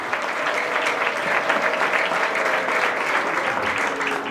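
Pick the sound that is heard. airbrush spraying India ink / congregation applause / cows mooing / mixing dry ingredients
congregation applause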